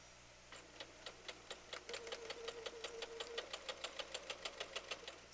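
A sewing machine chain sews fabric, its needle rapping out fast, evenly spaced ticks in a steady run that briefly carries a humming motor tone midway, close and fairly quiet with no voices.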